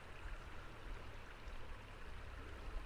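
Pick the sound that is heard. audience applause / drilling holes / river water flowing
river water flowing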